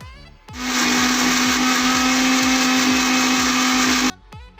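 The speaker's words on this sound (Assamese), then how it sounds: "তাৰপাছত এইখিনি আকৌ এবাৰ মই পেষ্টটো আকৌ এবাৰ পিচি ল'ম" An electric blender grinds pumpkin-leaf chutney paste with a little sugar in one loud, steady burst of about three and a half seconds, starting and stopping abruptly, close and with no talk.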